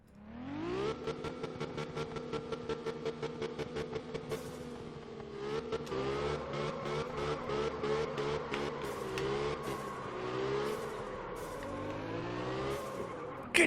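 Drifting car engine in Absolute Drift, revving hard under full throttle with a handbrake slide: a steady buzzing drone with rapid rhythmic pulses and pitch swells, loud and close, with no talking.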